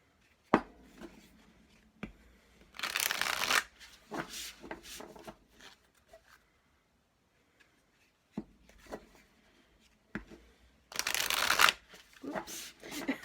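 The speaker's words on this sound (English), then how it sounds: "Exuberant shuffling." Tarot cards shuffled energetically at close range in several loud riffling bursts, separated by quieter taps, handling sounds and near-silent pauses.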